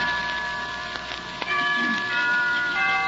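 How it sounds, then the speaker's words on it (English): Soft chimes ring with sustained, shimmering tones over a quiet background, a few notes overlapping and fading. "Why don't we both just sit here and listen to the chimes for a while?"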